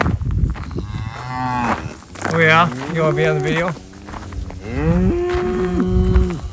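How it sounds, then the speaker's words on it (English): Cows moo loudly and close by at the Brush Creek Trailhead on South Dakota's Centennial Trail, several long drawn-out lows overlapping, while someone speaks briefly over them. "there's all sorts of cows down here"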